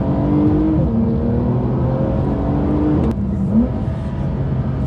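Porsche 992 Carrera S with its twin-turbo flat-six accelerating hard, heard from inside the car as a loud, steady engine drone with rising harmonics, a brief break near the end before pulling again.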